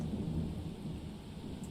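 Thunderstorm with heavy rain in the video game Red Clover Case Files: a steady, dense roar of rainfall with low rumbling thunder running throughout, continuous and fairly loud with no voices.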